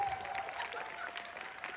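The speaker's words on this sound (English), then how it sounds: "stand up, we're gonna applaud you like a veteran." A large fan-event audience at a Dune Q&A applauds steadily, a dense, continuous wash of clapping and crowd noise throughout the short clip.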